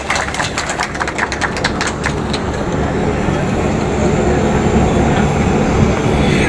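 The Gorakhpur-Banaras Intercity Express, trains 15103/15104, stands at Chauri Chaura railway station during an inaugural stop ceremony, its engine rumbling loudly and steadily up close, with rapid metallic clicking over the first seconds.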